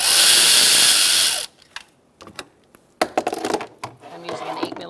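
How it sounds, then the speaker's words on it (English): A ratchet with an 8mm socket works a hose clamp loose on a 2004-2009 Mazda 3, heard as a brief whirring spin followed by sharp clicks and metallic handling taps, close by. "I'm using an 8mm socket for that hose clamp."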